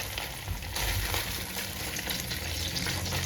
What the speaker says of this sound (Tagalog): tanggalin na natin para i-fry na natin yung garlic